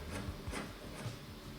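Faint rhythmic scraping from someone sanding in the room directly overhead, a few muffled back-and-forth strokes heard through the ceiling.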